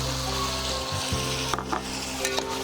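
Chicken with yogurt sizzles in a pot while being mixed, a continuous close frying hiss broken by a few light scrapes and clinks of the stirring spoon.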